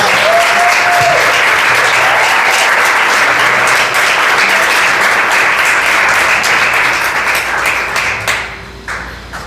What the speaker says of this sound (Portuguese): Agora dá uma salva de palmas bem forte para Jesus.